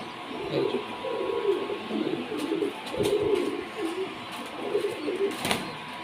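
Domestic pigeons kept for sale, including coloured fancy breeds, coo in soft, repeated throaty phrases close by, with faint background hiss and an occasional sharp click.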